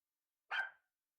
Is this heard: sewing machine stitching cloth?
no